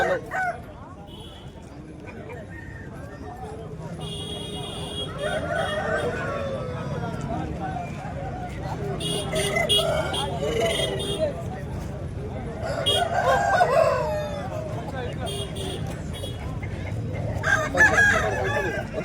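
Roosters crow repeatedly and hens cluck at a busy outdoor hen market in Bhadradri Kothagudem, with traders talking and bargaining throughout under a steady crowd murmur.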